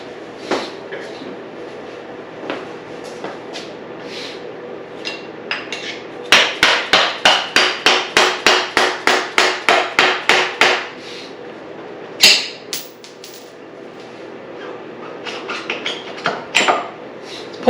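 Hammer blows ring out during the teardown of a 2022 CRF450R motorcycle: a quick, steady run of about a dozen sharp, close metallic strikes, with a few scattered knocks before and after.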